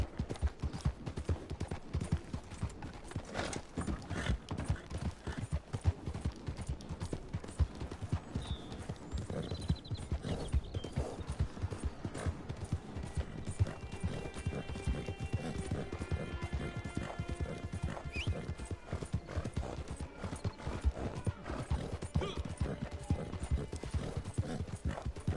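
Horse hooves clip-clopping at a steady pace in the video game Red Dead Redemption 2, a continuous rhythmic stream of close, sharp hoofbeats over the whole stretch with a faint whinny and light background music.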